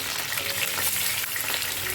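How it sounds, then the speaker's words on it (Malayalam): Pomfret fish frying in hot oil, a dense, steady crackling sizzle that fills the whole stretch at close range with no talking. "ഓരോ മീനും ഇതിലേക്കിട്ട് പൊരിച്ചെടുക്കാം."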